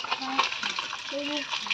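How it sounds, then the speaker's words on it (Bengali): Fish fries in hot oil in a pan in a village home kitchen, giving a steady, close sizzling hiss that runs through the whole moment with faint utensil clinks and brief tonal sounds over it. "মাছ ভাজা হচ্ছে।"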